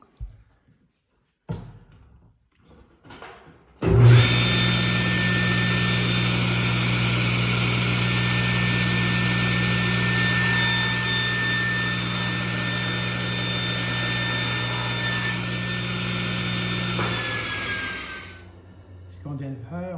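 Table saw in a community woodworking shop powering up and cutting the ends off two wooden pieces, fresh blade fitted: a loud, steady motor whine with high harmonics runs for about thirteen seconds, then winds down, after a few quiet clicks.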